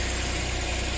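A Suzuki Every DA64B van's K6A engine idles with a steady, even low hum and rumble, heard close and alone without any talking.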